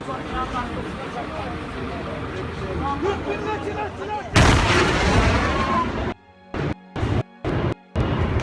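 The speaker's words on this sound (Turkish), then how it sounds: "Şu an bomba patladı." Amid loud, chaotic noise and shouting voices, a sudden heavy explosive blast erupts, followed by a series of sharp, evenly spaced bursts like gunfire.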